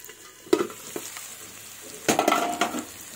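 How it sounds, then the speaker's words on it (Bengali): Potatoes sizzle and fry in hot oil, with a couple of sharp stirring scrapes and clinks rising over the steady crackle. "এবার আলুগুলো ভাজা হয়ে গেছে"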